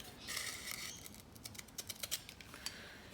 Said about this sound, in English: cut this sandpaper. So I'll just grab the scissors.